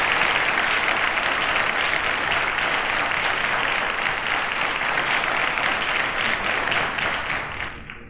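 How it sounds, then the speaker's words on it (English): A studio audience at a televised maths quiz show applauds the contestants with loud, sustained clapping that holds steady for several seconds and then fades quickly at the close. "Round of applause to them, guys."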